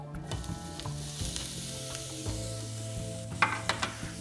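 Onions sweat in clarified butter in a pan for a hearty Austrian chanterelle dish, giving a soft continuous sizzle with stirring scrapes and a few sharper clinks near the end, close up and without talk.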